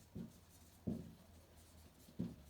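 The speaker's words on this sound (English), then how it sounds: "so I'll write it in here" Three short, faint scratching strokes of writing on a board during a biology lecture, spaced unevenly over a quiet room hum, with no talking.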